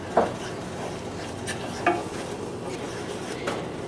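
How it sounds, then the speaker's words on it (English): Paprika being stirred into cooled oil in a cooking pot for a Hungarian potato water soup, a few light metallic scrapes and clinks of the spoon against the pot at uneven intervals over a quiet background hiss. "oil has cooled down enough now that I can put in the paprika. And stir it."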